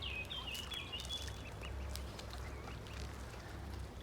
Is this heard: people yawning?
no